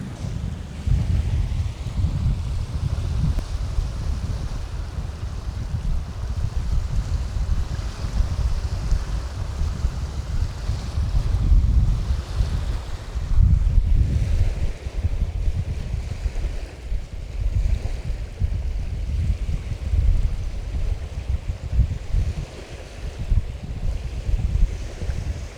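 Ocean waves roll onto the shore in a steady, continuous wash, recorded close to the ground, with wind gusting and buffeting the microphone throughout.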